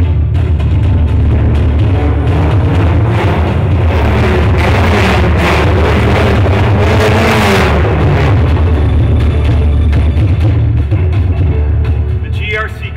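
A Volkswagen GRC Beetle, an all-wheel-drive rallycross race car with over 560 horsepower, revs loudly and continuously at an auto show, with a crowd and an announcer's voice over the engine.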